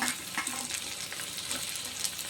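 Tomatoes and crushed green chillies fry in a pan, giving a steady close sizzle with small bursts of crackle and spatter throughout, and no voices.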